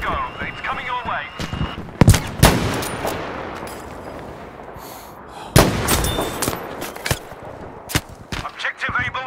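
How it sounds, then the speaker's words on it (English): An artillery barrage falls around a battlefield position in Battlefield V, fighting in Norway: several sharp, loud impacts in irregular clusters over rumbling combat noise and scattered gunfire, with voices heard faintly between blasts. "we need an artillery barrage at this position. It's a go. It's coming your way."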